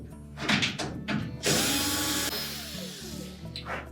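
Power screwdriver whirring in short bursts and then a longer sustained run while back panel support screws come out of a Whirlpool washing machine, close and moderately loud, with light clatter between.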